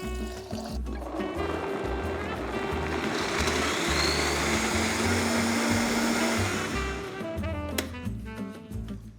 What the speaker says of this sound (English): I just pureed it for about 15 seconds just for it to be creamy